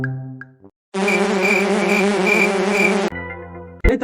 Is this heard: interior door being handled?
no